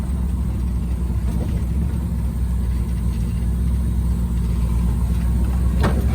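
A 1948 Willys Jeepster on the move, its engine giving a steady, loud low rumble from inside the cabin, with a continuous road and wind roar throughout.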